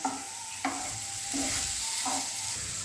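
A banana ball snack mixture, with grated coconut added, being stirred in a hot pan, giving a soft continuous sizzle broken by a few distinct spoon scrapes against the metal, close and without talk.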